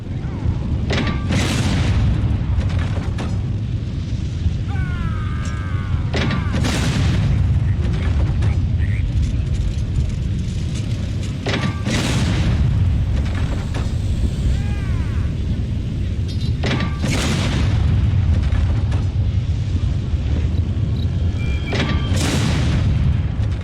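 In an MMO game's cannon section, cannon shots boom again and again at irregular intervals, each a deep thud with a crack. Mechanical clanks and ratcheting sit between the shots over a constant rumbling background.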